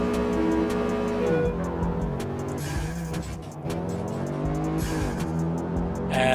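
Street Racing Syndicate racing game cars with a steady engine roar and shifting gear-change pitches, plus brief tire squeals and ticking effects, running loud and continuous without talk.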